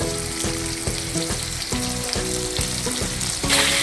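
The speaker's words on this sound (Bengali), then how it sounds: "আলুগুলোকে খুব ভালো করে ভেজে নেব।" Cut potato pieces with a little salt fry loudly in a hot pan, producing a dense crackling sizzle with regular pulses of stirring and a rhythmic tonal layer underneath, close and unbroken by talk.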